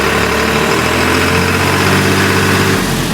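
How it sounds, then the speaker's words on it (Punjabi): A used tractor with 898 hours starts up, its engine running loud and close, a steady low diesel idle with a deep rumble that shifts slightly near the end. "ਇਹਨੂੰ ਸਟਾਰਟ ਕਰ ਆਪੇ ਦੀ ਬੜਕ ਦੇਖਣੀ ਆ ਟਰੈਕਟਰ ਦੀ"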